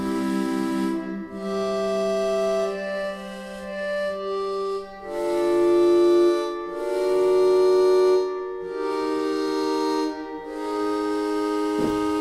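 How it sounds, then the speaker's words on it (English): An Ondes Martenot plays in its higher range, producing an airy, theremin-like tone with a light, organ-like quality, in held notes and short gliding phrases separated by brief gaps, clear and close with no voices. "it sounds like a theremin mixed with sort of a really light, airy kind of organ."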